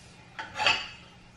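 Dishes come out of a dishwasher opened before its drying cycle finished, giving a quick pair of ceramic clinks and rattles, close and fairly soft, in an otherwise quiet kitchen.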